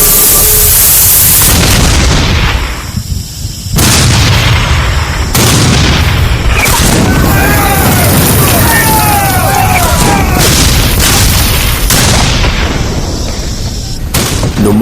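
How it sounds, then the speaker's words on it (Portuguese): Artillery and musket fire in a Civil War battle at Gettysburg, 1863: repeated loud booms and crackling gunfire bursts, dense and continuous with voices mixed in. "Fogo de artilharia e de mosquetes trovejava e explodia por toda parte."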